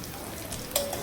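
Whole spices sizzle in hot oil in a pan as the tempering for ajwain rice, a steady close crackle with a few sharper pops and no voices.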